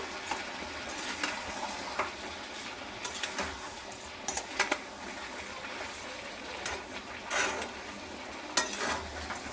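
Jaggery and sugar are stirred in a pan for mango pickle, producing a continuous soft scraping and bubbling sizzle with occasional louder clinks of the spoon, steady and close without talk.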